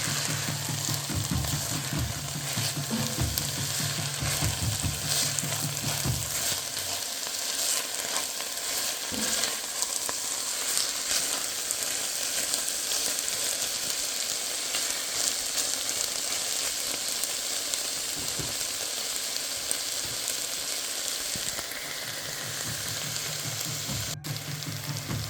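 Zucchini and quinoa dish sizzling steadily in a hot pan after salt goes in, with a constant frying hiss and intermittent stirring scrapes throughout, no talking.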